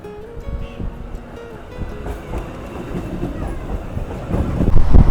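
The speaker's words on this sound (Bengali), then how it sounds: "ফাইনালি আমাদের ট্রেন চলে আসলো" A Katwa–Rampurhat MEMU special train pulls into platform 3 of a station, with a steady rumble of wheels and carriages that builds and grows louder toward the end.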